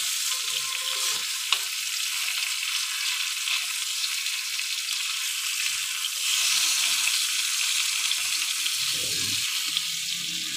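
Hilsa fish frying in hot oil in a pan, a loud, steady sizzle and crackle that runs throughout with no voices.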